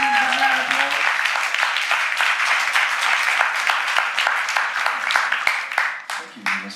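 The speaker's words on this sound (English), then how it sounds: "If you can give me a round of applause." A film festival Q&A audience gives a round of applause, dense clapping with sharp individual claps standing out, steady for several seconds and then thinning out at the end.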